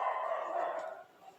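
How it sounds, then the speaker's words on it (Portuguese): A dog gives one short, drawn-out bark that fades after about a second, close and moderately loud. "os cães começaram a latir"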